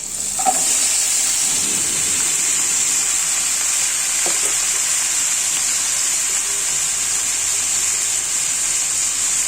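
Finely chopped beans and potatoes, with onion and garlic, sizzle loudly in a frying pan. A steady, dense hiss carries on throughout, broken by a couple of faint clinks near the start.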